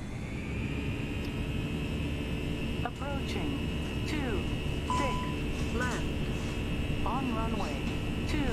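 Airliner jet engines spooling up for takeoff in the Prepar3D flight simulator, a steady loud roar throughout with a rising whine, joined by brief chirping tones and a speaking voice at points.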